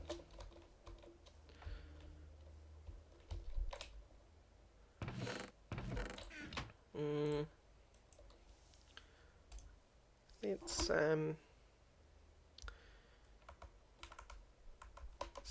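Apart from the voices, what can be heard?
computer keyboard being fiddled with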